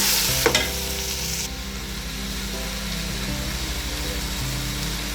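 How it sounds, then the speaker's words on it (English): Tomatoes stirred into a frying chicken biryani mixture, a constant close sizzle with a sharp clank of the spoon against the pot near the start, then steady frying without speech. "Give it a good stir so that everything mixes well."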